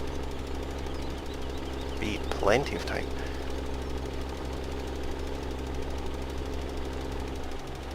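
A tractor engine in Farming Simulator 17 runs with a steady, low knocking drone throughout, while a voice talks over it briefly.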